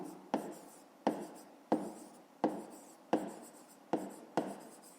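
A pen writes on paper while a 5th-grade math exercise is worked out by hand. Seven crisp, close scratching strokes come at a steady pace, about one every two-thirds of a second, in an otherwise quiet room.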